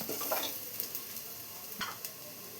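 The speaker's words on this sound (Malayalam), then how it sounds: "സവാളയെല്ലാം കളറൊന്ന് മാറി വരുന്നവരെ നന്നായി തന്നെ ഒന്ന് വഴറ്റി കൊടുക്കാം." Onions frying and browning in a pan for a squid roast, giving off a continuous soft hiss of sizzling oil with a few light clicks and scrapes of a spoon stirring nearby.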